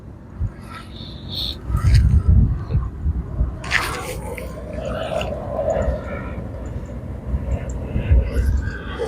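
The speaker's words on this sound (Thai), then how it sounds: "เครื่องบิน เครื่องบินลำบึกใหญ่เลย" A large airplane passes overhead above green rice paddies, a broad, low rumbling roar sustained throughout and moderately loud, with people talking over it and some wind noise.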